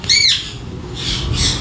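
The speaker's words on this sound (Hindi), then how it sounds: "ये जो मैना है टॉकिंग मैना" A pet talking myna bird gives three loud, close, harsh squawks: a long one at the start, then two shorter calls in quick succession, with no talking.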